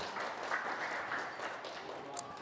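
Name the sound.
congregation applause in church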